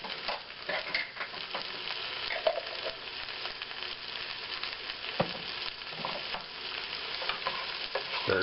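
Garlic fries in a pan with a steady soft sizzle while a utensil stirs and scrapes it now and then, close and quiet.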